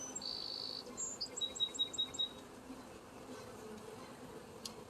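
Honeybees hum softly during a Sunday hive inspection, a faint steady buzz while birds chirp in a short series of high calls in the background, with no talking.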